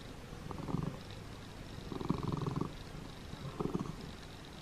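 A pet cat purrs close up in three slow, rhythmic cycles, a steady low rumble over a soft background hiss.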